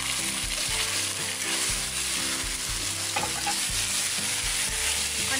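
Arbi (taro) roasting with spices in a pan sizzles continuously while a small ladle scrapes and stirs it in an uneven rhythm of repeated knocks, close and loud, with no talking.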